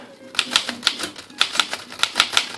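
A 1937 Remington 5 manual typewriter clacks as keys are struck in an uneven run of sharp, crisp taps, close and fairly loud, with no one talking.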